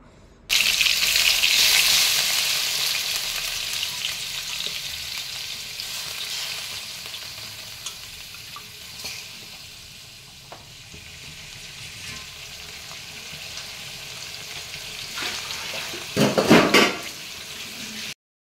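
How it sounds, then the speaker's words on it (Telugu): Chicken pieces and onions sizzle and fry in hot oil in a pan, a steady loud crackle throughout with a few brief stirring clatters near the end; no talking. "ఇప్పుడు అందులోకి కొన్ని ఆనియన్స్ వేసుకోవాలి, అలాగే మనం వాష్ చేసి పక్కకు పెట్టుకున్న చికెన్ ముక్కల్ని అయితే కూడా వేసుకోవాలి."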